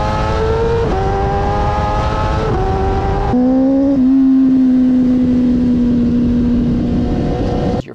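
A Yamaha R1 sportbike engine with a crossplane crankshaft revs loudly and continuously, its pitch stepping up and down in steady holds before settling into a long sustained drone, close and alone.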